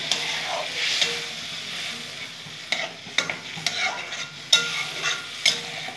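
Water poured into a pan of mustard-based chapla fish curry sizzles and hisses, with several sharp stirring scrapes and spatters over a soft steady fry.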